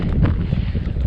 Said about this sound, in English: It does get windy here